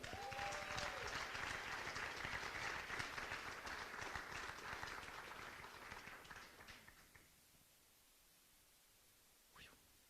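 A room of people at a Manalapan High School athletics senior awards ceremony claps for a cheerleading award winner, a full steady applause that thins out and stops, leaving near quiet with one faint knock.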